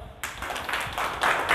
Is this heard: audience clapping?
yes